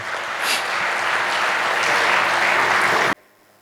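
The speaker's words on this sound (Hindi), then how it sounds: "जोरदार तालियों से आप उनका स्वागत करें।" A large audience applauds to welcome an honoured guest, a police medal recipient, at the inauguration ceremony of a Saraswat Brahmin convention in Jodhpur, Rajasthan; loud sustained clapping that cuts off abruptly after three seconds.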